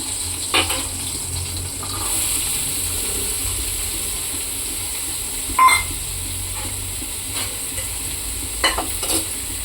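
Fish fries in a pan with a soft, steady sizzle, broken by a few sharp clinks and scrapes of a utensil against the pan.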